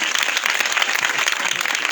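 Loud, dense applause from a congregation at a live village church worship service, continuous close clapping with no gaps.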